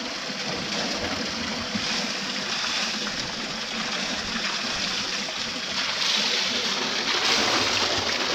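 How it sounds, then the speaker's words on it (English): Ice-cold water runs steadily from a tap, a constant broadband rush of flow and splashing that holds at an even level throughout and swells a little louder near the end, with no voices. "Ice cold water."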